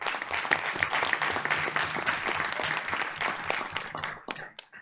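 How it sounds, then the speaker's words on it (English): An audience at a school board of education meeting breaks into applause, a burst of many hands clapping at close range that carries on steadily and then fades out at the end. "So let's give them a round of applause for that."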